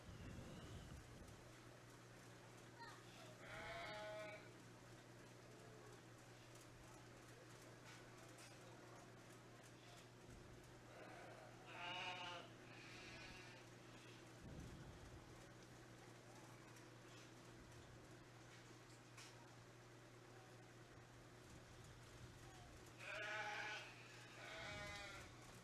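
Sheep bleating at a 4-H sheep show, several separate bleats spread over the span, heard at moderate distance over a steady background hum and murmuring crowd.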